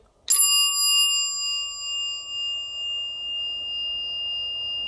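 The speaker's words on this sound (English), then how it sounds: "this right here is a bell chime from the Schindler Medical Building" A single struck elevator bell chime from a Schindler medical building rings once, close and clear, then sustains a long bright tone that slowly decays over several seconds.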